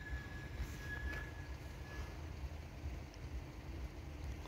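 An Impuls electric passenger train passes at a distance, a steady low rumble of wheels and traction with a thin high squeal early on, no voices present.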